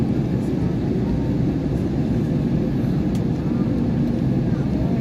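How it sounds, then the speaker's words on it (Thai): An airplane descending to land over Berlin, banking left and right, heard as a steady, loud low-frequency engine and airflow roar from inside the cabin that holds constant throughout. "เครื่องบินก็คอยล่อนลงเอียงซ้ายเอียงขวาละ"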